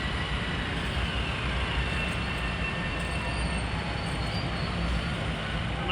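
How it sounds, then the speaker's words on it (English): Metro-North local commuter train bound from North White Plains to Grand Central on the Harlem Line, rolling through a station on a holiday evening: a steady loud rumble of wheels with faint squealing, continuous throughout with no voices. "here comes 562 from North White Plains to Grand Central"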